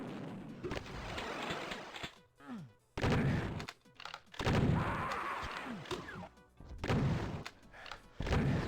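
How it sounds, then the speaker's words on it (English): Repeated shotgun blasts and other weapon fire from a Doom II duel match, a busy, loud run of punchy bursts with short gaps, close and in front, with faint commentary voices underneath. "Very nice shotguns coming out of here"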